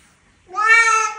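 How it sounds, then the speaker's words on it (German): A cat gives one clear, close meow, rising and holding for about a second against an otherwise quiet indoor background. "Ja, da ist noch eine zweite Katze."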